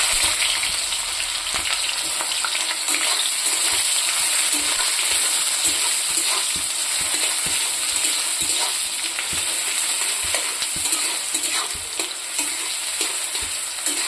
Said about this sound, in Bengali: তো তেলটা গরম হয়ে গেছে, আমি এখানে পেঁয়াজটা দিয়ে দেবো।